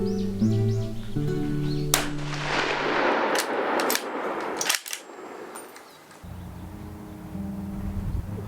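Several loud, sharp gunshots ring out at a military firing drill, spaced unevenly over several seconds, each with a ringing echoing tail over steady outdoor background noise.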